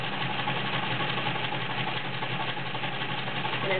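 A vintage Dressmaker 7000 heavy-duty sewing machine runs steadily through a reverse stretch stitch, its motor whirring in an even, close mechanical drone with a fine rapid needle chatter and no pauses.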